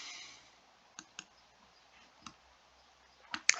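Sparse computer mouse clicks, about five light, sharp taps at irregular intervals with a faint hum between them, close and quiet.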